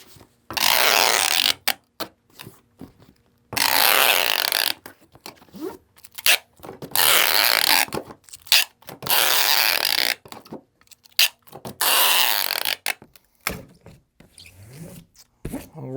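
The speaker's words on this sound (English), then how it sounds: "We're going to tape up the box and apply the label." Packing tape ripped off the roll and pressed down while sealing a cardboard shipping box for a returned Steelcase Gesture chair; long loud screeching pulls repeat several times, separated by short rustles and pats, with no talking.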